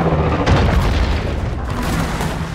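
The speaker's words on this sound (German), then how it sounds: "Ich markiere ihn mit dem Laser! Und dann kommt der Schuss aus dem Orbit." An orbital strike from the Gears of War 4 prologue lands as a heavy, booming blast with a rolling low rumble that fades over a couple of seconds.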